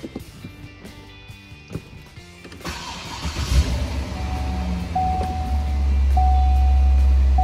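A 2006 Corvette convertible cranks and fires after a few quiet seconds, its engine settling into a steady, loud low rumble at idle that swells toward the end, with a faint high tone running alongside.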